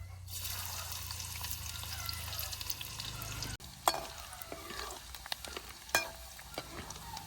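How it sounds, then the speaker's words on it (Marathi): A hot wok crackles and hisses as onions fry in oil, the sizzle continuing with occasional scrapes and light clinks of stirring. "कढई गरम झाली आता कांदा टाकतो"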